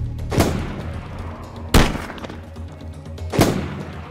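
Gunfire in DayZ during a large base raid: three loud, sharp shots spaced about a second and a half apart, each with a booming low tail fading into quiet in between.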